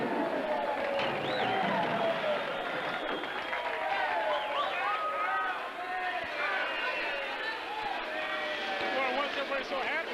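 Factory workers at a truck assembly line applaud and cheer as the last truck comes down the line, a dense crowd of clapping and excited chatter with a voice talking over it.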